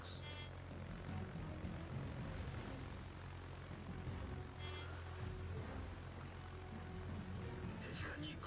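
Enemy aircraft in World of Warships, heard as a steady propeller-engine drone that holds throughout at moderate level, blended with ongoing naval battle ambience.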